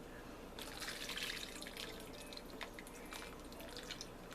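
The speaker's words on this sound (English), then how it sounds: "I'm going to drain these pears through a drainer." Drained pears for carrot cake jam release liquid through a drainer in a quiet kitchen, a soft steady trickle with faint drips, close but low in level, no talking.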